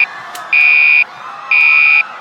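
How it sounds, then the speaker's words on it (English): An electronic fire alarm in a cartoon setting buzzes with a steady high-pitched tone in long half-second bursts, sounding twice with short gaps. The alarm is loud and close, with no voices over it. "Did I hear that you were the one who pulled the fire alarm?"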